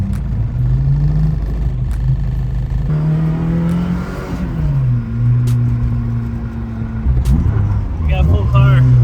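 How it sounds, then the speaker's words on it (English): A Toyota AE86 Hachi drives through Osaka, its engine humming and rising in pitch as it revs between shifts, with people talking inside the car over the engine. "Never thought we'd be driving around Osaka in a Hachi"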